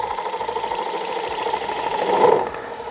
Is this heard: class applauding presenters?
no